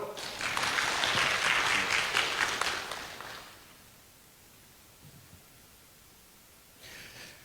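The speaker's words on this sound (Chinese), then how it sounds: "我们用热烈的掌声欢迎唐吉根教授" An audience in a library lecture hall applauds to welcome a professor's talk on Shang dynasty jade; dense, loud clapping lasts about three and a half seconds, then fades to room quiet before a short second burst near the end.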